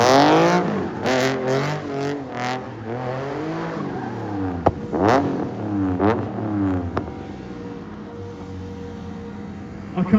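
A stunt car at the Silverstone circuit revs hard in rising and falling sweeps, with sharp bursts and tire noise, loud and fairly near, then eases toward a quieter passing drone.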